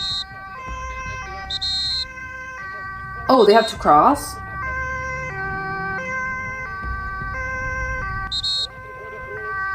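An ambulance siren on an escorted emergency run in the Netherlands wails in steady rising and falling tones, with a brief loud burst of voices and road noise partway through; a person speaks over it.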